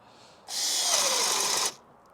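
A RIDGID cordless drill powered by a new battery bores a 1-inch hole in wood with a knot, a steady loud high-pitched whine lasting just over a second before cutting off.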